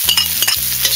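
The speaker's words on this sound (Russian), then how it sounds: "Засыпаем лучок." Chopped onions go into lard in a preheated cauldron outdoors and sizzle loudly and close, with scraping stirring strokes breaking through the frying. No one speaks.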